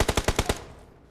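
Rapid gunfire in the PUBG Mobile battle royale game, six sharp shots in an even quick burst, loud and close, then a short decaying tail into quiet.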